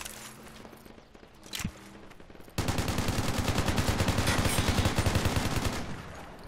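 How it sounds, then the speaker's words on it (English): Heavy .50 cal machine gun fire in the video game Project Reality during a Stryker APC perimeter defense, a sustained rapid burst of loud repeated shots following scattered quieter gunfire and a single nearby bang. "Is that 50 cal?"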